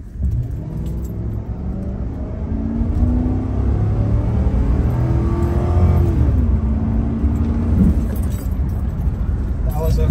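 A 2010 Mercury Grand Marquis LS Ultimate engine pulls hard through its gears from 0 to 60, pitch climbing steadily and dropping at shifts, loud and close, with some voice underneath.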